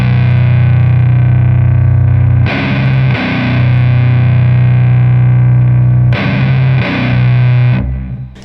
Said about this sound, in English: So just playing an open bottom string power chord